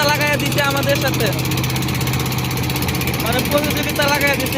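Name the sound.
engine of a racing river boat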